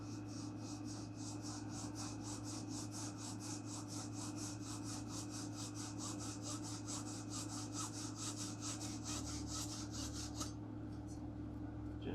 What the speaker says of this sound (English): I'm going to cut this right before the line.